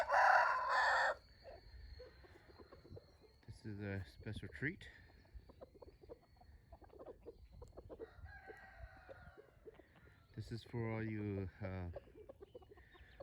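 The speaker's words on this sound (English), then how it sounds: "These are Thai roosters crossed with like basically a good mix of Burmese" Thai roosters crossed with Burmese fowl crow loudly up close at the start, followed by scattered clucking and calls while someone talks over them.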